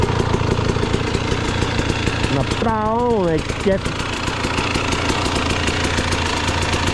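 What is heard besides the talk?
enduro motorcycle engine idling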